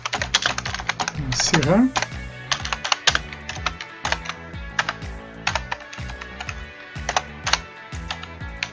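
Clicky computer keyboard typing with scattered keystrokes including an Enter press, close and crisp, with a brief voice speaking early on.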